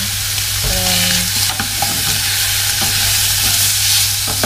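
Pork adobo with pineapple being stirred and fried in a pan, a steady close sizzle of oil with scraping utensil strokes and a faint low hum underneath.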